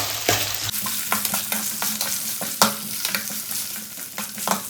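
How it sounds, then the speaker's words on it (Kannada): Chopped potatoes fry in hot oil on a stovetop, giving a dense, continuous sizzle and crackle with occasional scrapes and clinks of stirring, close up and without speech. "ಸೊ ಅದನ್ನು ಹಾಕ್ತೀನಿ ಈಗ ಎಣ್ಣೆ ಒಳಗೆ. ಇದನ್ನು ಫ್ರೈ ಮಾಡ್ತೀನಿ."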